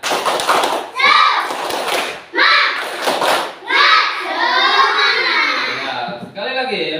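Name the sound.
children doing rhythmic clapping cheer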